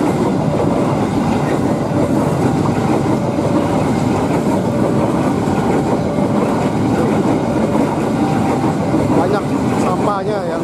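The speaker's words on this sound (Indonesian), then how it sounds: "Wow, kereta sampah." Continuous loud rumble and clatter of a garbage train passing close by, steady for several seconds, with faint voices mixed in.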